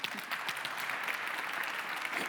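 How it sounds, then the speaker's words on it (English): An audience at a business conference on next-generation procurement leaders gives a short round of applause, even and moderately distant, with no talking over it. "Big round of applause,"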